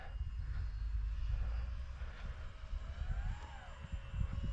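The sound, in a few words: scratch-built model airplane climbing in flight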